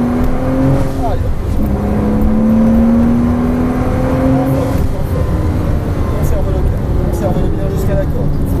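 A Porsche Cayman S on the Folembray race circuit accelerates hard during a sprint racing driving course, its engine note rising steadily and loudly from inside the car while an instructor talks over it.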